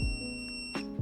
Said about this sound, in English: until you hear the beep.